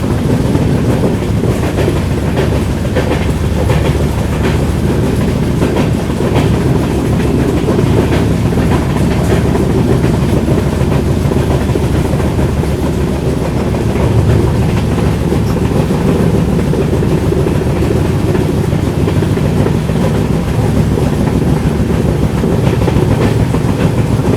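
The Guwahati–Sairang Express rolls along tracks through the Assam hills, a loud unbroken rumble with rhythmic clickety-clack of wheels over rail joints, heard from inside the carriage with no voices.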